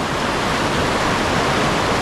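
Flood water rushing through a creek makes a loud, steady, unbroken roar close to the listener, with no pauses or voices.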